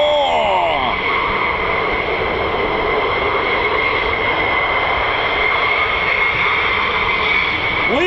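F-15 Eagle fighter jets at the 48th Fighter Wing, RAF Lakenheath, roar steadily and loudly, a constant, dense jet engine noise with a high whine throughout, as a voice briefly speaks over it.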